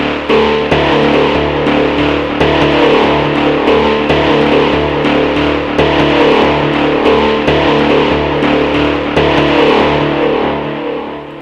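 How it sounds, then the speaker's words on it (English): A loud, gritty synthesizer mid bass plays continuously, thick and buzzing, with steady rhythmic pulses running through it and no voices. "And I don't like this mid bass I have here."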